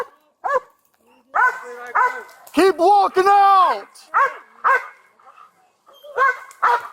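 A police K-9 barks in short, loud bursts during a sheriff's deputy search for a suspect in the woods, mixed with someone shouting commands close by.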